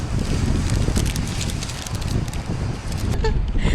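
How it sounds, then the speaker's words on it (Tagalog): Strong wind buffeting outdoors, a loud, unbroken roar of rushing air and microphone rumble that barely lets up, with brief rustling fluttering on top. "It's so windy!"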